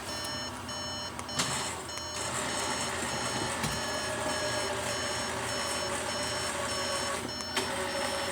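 Truck on the move during an ATV overland recovery, with steady repeated reversing beeps over a constant engine rumble, loud and close, no talking.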